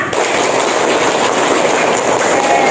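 A class of students clapping rapidly and repeatedly during a classroom clapping game, a loud, dense and continuous rattle of many hands with no pause.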